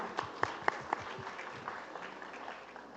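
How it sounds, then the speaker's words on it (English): An audience applauds a Safe Haven Award recipient, the Calamba City mayor, at an event; a few distinct claps open before a soft, steady wash of clapping fills the hall at a distance. "Let's give him another round of applause."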